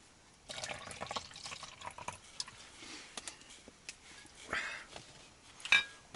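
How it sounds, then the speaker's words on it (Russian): A drink is poured into a glass at an outdoor night camp beside a tent on a fishing trip, a faint splashing trickle with small clinks of glassware, quiet and close. "Ну, Ларис, налью тебе."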